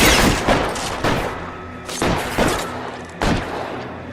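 Gunfire in a shootout in L.A. Noire: several sharp, loud shots and bursts spaced across the moment, each with a booming tail, with no talking.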